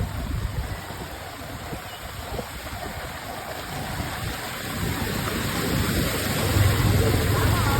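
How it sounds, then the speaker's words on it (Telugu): Rain falls on town roads and streets in Kanchikacherla, giving a broad steady wash that grows louder toward the end, with a low engine rumble mixed in. "అందుకే మళ్ళీ మొదలైంది వర్షం."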